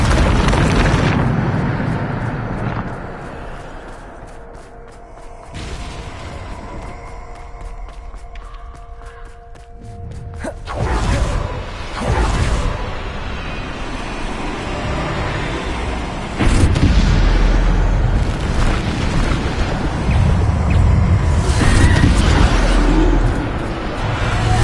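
Repeated Bombarda explosion spells in a video game, loud booming blasts and crackling bursts rolling one after another, separated by a quieter stretch with whooshing magical effects.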